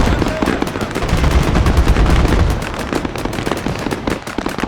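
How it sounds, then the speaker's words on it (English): BMP armoured vehicles firing their guns at enemies in a war video game, rapid bursts of loud automatic fire with a rumbling low blast partway through, heard up close and without speech. "BMPs are shooting up the enemies."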